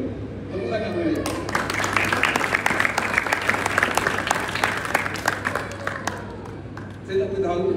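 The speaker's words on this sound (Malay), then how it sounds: "Tepuk tangan kepada dia." An audience at a motivational speech breaks into sustained applause, a dense wash of many clapping hands that swells, holds for several seconds and then fades.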